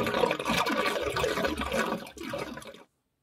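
Water pours steadily out of an Ariston Lydos Hybrid water heater being drained during maintenance, a continuous close gushing splash that cuts off abruptly near the end.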